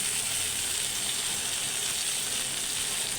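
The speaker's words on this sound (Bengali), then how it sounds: "ভেন্ডিগুলো ভাজি হয়ে গেছে" Okra (bhindi) frying in a pan gives a steady, dense sizzle with a constant hiss that runs close and even from start to finish. Nobody speaks.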